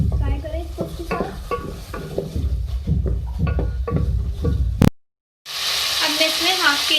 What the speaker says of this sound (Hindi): अब मैं इसमें 15-10 जो है कड़ी पत्ते ऐड करूँगी। आप सूखे भी ले सकते हैं, ताजे भी ले सकते हैं। फ्राई करें इसको उसके साथ।